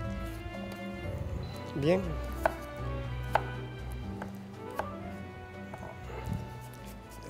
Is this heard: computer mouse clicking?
no